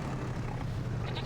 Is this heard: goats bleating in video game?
yes